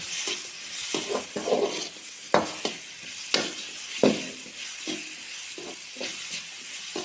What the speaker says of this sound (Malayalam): നമുക്ക് നന്നായിട്ട് ഇതൊന്ന് ഇളക്കി കൊടുക്കാം